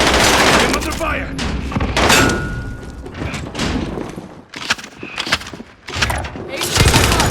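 Repeated bursts of video game gunfire and explosive thuds pound through a Battlefield-style match on an Alcatraz map, loud and close, some rapid volleys, with a player speaking over the shooting.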